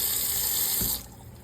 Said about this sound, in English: I took pickled cabbage from the jar, and I'm gonna wash it now